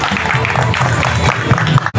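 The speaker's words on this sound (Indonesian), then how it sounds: "Tepuk tangan buat Bapak Ibu semua." A crowd claps and cheers continuously for a couple of seconds at a farewell gathering on a beach, loud and close.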